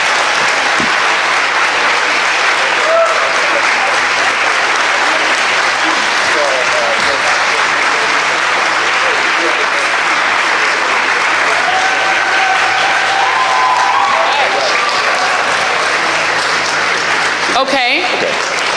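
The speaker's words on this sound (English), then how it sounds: "Give Elizabeth Warren a big round of applause for coming to Selma." Audience at a presidential candidates forum in Selma applauding, a loud, dense, continuous roar of clapping that fills the whole stretch with a few scattered voices and cheers mixed in.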